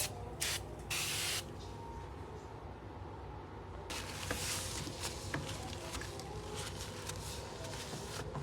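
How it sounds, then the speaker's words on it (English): A multi-purpose cleaning spray bottle is pumped in several quick hissing bursts early on, followed by quieter rustling and handling noises. "the multi-purpose cleaning spray to wipe down the dish"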